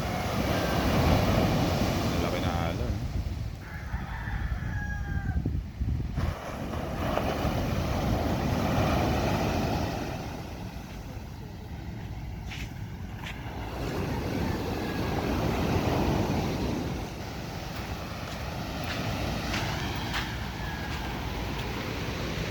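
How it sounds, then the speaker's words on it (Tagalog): Large waves roll onto a beach on a calm sea, a continuous loud rushing wash that swells and eases, mixed with gusty wind buffeting the microphone, with no talking. "kalmada ang dagat pero malalaki ang ala"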